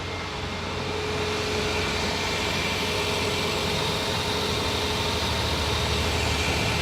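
A 2014 Ford Fiesta engine idling steadily after a faulty temperature sensor was replaced, a close, continuous low rumble with no talking.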